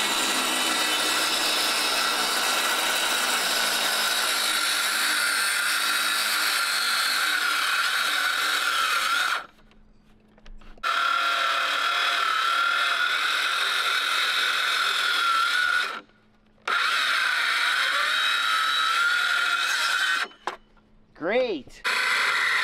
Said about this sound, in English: a saw, to cut up this wood